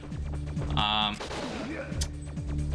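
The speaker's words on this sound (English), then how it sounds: "His weapon of choice is the submachine gun, along with throwing grenades, as you can see." Video game WinBack on N64 with submachine gun bursts and grenade blasts, a dense run of sharp rapid shots with a louder explosive burst near the middle, steady game sound throughout.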